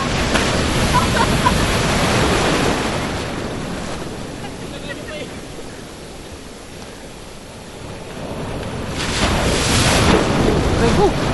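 Rough sea surf crashing and churning continuously at a beach resort, loud and close with wind buffeting the microphone, easing slightly in the middle before surging again near the end.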